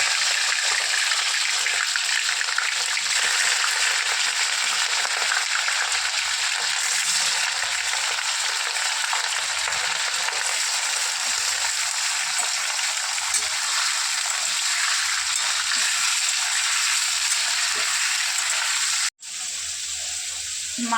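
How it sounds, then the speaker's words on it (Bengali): Village chicken pieces fry in hot oil in a wok, a loud, steady broadband sizzle that holds evenly for about nineteen seconds before a brief break and resumes. "এরপর এটাকে আমরা একটু ফ্রাই করে নেব"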